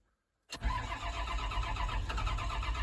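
An engine cranks and catches after a brief silence, settling into a rough, steady running rumble nearby.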